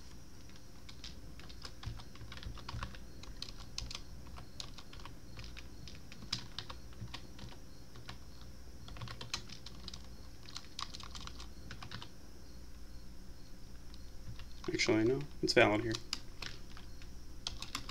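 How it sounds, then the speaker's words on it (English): Keys clatter on a computer keyboard close beneath the microphone, sparse irregular taps scattered throughout with a louder burst near the end, while someone talks quietly. "my microphone is over my keyboard, so it's a little irritating"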